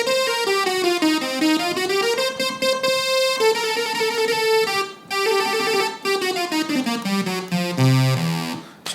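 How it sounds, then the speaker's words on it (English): Korg Kronos MS-20 synthesizer emulation playing its initial two-oscillator patch with the low-pass filter fully open and zero peak, a loud, bright, buzzy sustained tone gliding through a melodic line with no talk. "So that is the initial sound of MS-20."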